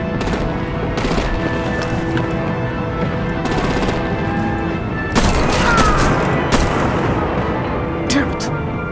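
Rapid gunfire and booming artillery in the video game Batman The Enemy Within, sustained dense bursts with a louder blast partway through, under action music and sound effects.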